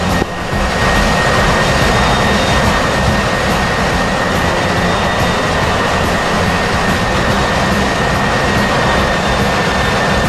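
Jet engine roar from a carrier takeoff in the DCS World flight simulator, a loud, steady, broadband rush that holds constant throughout with no talking.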